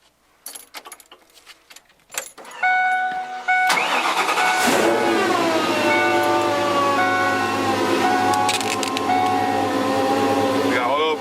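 A car in a garage, one with a Dakota Digital dash fitted, clicks and cranks a few times, then fires up and settles into a loud, steady idle that carries on to the end.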